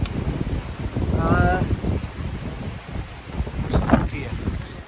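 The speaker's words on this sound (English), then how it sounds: "It's a bit blustery." Blustery wind buffeting a microphone outdoors along Hadrian's Wall, a loud rough rumble that surges and fades throughout, with people talking briefly over it.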